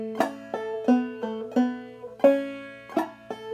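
Clawhammer banjo playing a passage from Hangman's Reel, with pull-offs on the third string. About eight crisp, ringing plucked notes in a steady, lilting rhythm, close and clear, with no voices.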